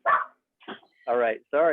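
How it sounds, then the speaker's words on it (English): A dog barks at home during a construction project, giving several sharp bursts with gaps between them, close and loud, mixed in with someone speaking. "That's my dog in my construction project."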